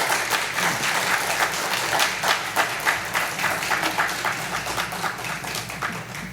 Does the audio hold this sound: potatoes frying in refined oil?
no